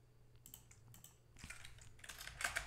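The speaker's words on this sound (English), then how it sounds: "You can hear my keyboard probably" Computer keyboard typing, faint and close, with scattered key clicks building into quicker bursts of tapping toward the end.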